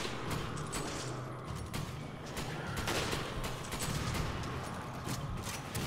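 Gunfire from the Resident Evil 5 video game crackles in rapid, dense bursts over a steady noisy game backdrop, moderately loud throughout with no clear pauses.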